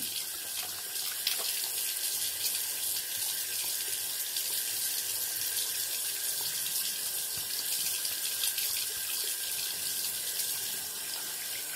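Cold water runs steadily from a tap into a sink while hands are washed, a constant quiet splashing hiss with no talk.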